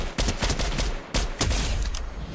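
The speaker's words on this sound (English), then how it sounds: "first kill with the MK rifle" Rapid MK rifle fire in Fortnite, a loud close burst of repeated shots running almost continuously through the short stretch, with a brief gap and no talking.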